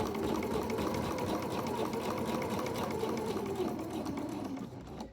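A sewing machine runs steadily and continuously, stitching fabric up to a corner while hemming, with a close, even mechanical whir that stops abruptly at the end.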